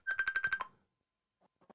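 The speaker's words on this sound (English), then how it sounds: "there seems to be a phone call coming in, but I can't stop it" A phone rings with a short burst of rapid electronic tones, a quick trilling series that stops abruptly, followed by a near-silent gap and a couple of faint clicks.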